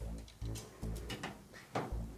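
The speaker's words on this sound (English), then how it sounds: "you have to like make sure it clicks in when you close them." A drawer of a 56-inch SGS toolbox slides and closes with a few soft thuds and clicks, fairly quiet and close, no talking.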